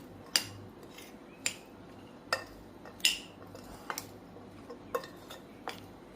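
Corn chaat being mixed with red chili powder in a bowl, a spoon clinking against the dish in sharp, irregular taps about once a second over faint room noise.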